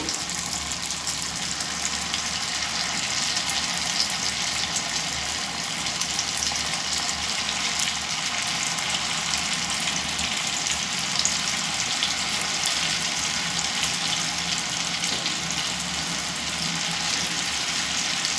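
Semiya pakoda fritters of vermicelli batter fry steadily in hot oil over a medium flame, a dense, even sizzle and crackle holding constant throughout, with no talking.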